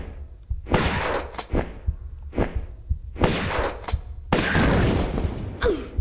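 Explosions and impacts in the video game Tomb Raider 1 Remastered: several heavy booming blasts and thuds in bursts separated by short gaps, loud and close, with no talking.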